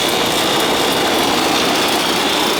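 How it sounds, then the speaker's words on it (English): An old Ruud air conditioner compressor runs loud and close, a steady broadband roar with a harsh droning hum that holds unbroken for the whole stretch. "It's a compressor."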